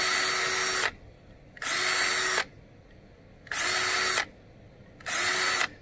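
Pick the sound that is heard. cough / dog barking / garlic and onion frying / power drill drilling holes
power drill drilling holes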